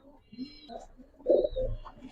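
Pigeons at a Mirpur bird seller's stock, among them a Checker Ice pair, give a few soft, low throaty coos close by, with faint chirps and quiet background noise between the calls.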